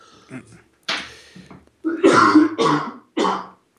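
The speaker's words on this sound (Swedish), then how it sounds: "Vänta, jag får hosta en stund." Several short, harsh coughs and throat clearing in close succession, near and fairly loud, with brief pauses between.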